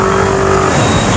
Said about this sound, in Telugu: సుజుకి నుంచి ఇది మఫ్లర్ సౌండ్ కూడా తీసుకొచ్చారు మనకు